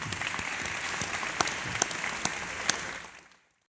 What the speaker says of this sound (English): another round of applause for Bradley Hart and Garrett Graff